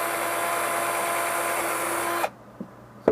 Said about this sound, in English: We're going to drill a hole in here.